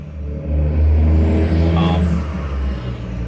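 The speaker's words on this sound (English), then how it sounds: "there's a big truck." Big truck passing close by on a road, its engine roar swelling to a loud peak and then fading, with a rising hiss partway through.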